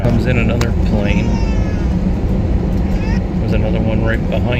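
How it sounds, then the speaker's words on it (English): A plane's engines roar steadily as it comes in at Akron-Canton Airport, a broad continuous drone with occasional higher whines and muffled voices nearby. "Comes in another plane."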